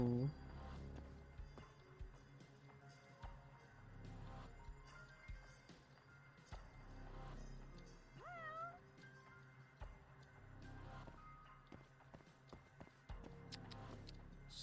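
A cat meows inside the video game Judgment, a few faint mews set within game music and footsteps, with scattered clicks and thumps around them.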